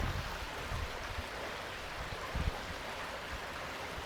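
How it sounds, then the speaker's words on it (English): A small creek runs past in a steady, soft rush of flowing water, with a few brief low bumps near the start and middle and no voices. "nice little creek coming through here."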